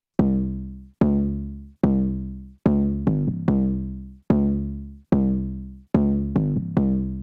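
Deep 808 bass notes processed through the R Bass plugin in Maschine, played alone in a steady pattern of about ten long decaying hits with a few quick double strikes, loud and close.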